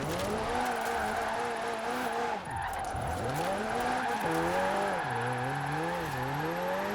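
A car drifting in Forza Horizon 4 gives a continuous loud engine note that rises and falls sharply as it revs, dips and climbs again, with a brief drop in pitch midway.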